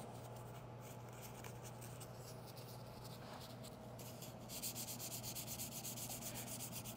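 Steady rhythmic scrubbing as car paint is wet-sanded by hand with 800 grit sandpaper to level damage, close and continuous, growing a bit louder and coarser in the last few seconds.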